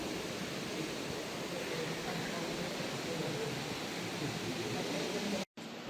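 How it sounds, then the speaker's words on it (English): Steady rushing roar of a waterfall echoing inside Meramec Caverns, a broad continuous wash of water noise filling the cave, fairly distant and even, cutting out briefly near the end. "It's like you hear a waterfall going on."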